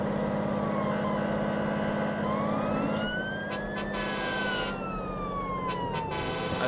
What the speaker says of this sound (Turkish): Siren çalıyor hala.